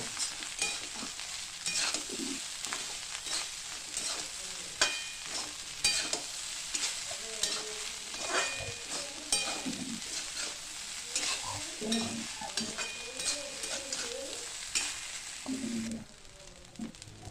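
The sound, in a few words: stirring rice with spices in pan for lemon rice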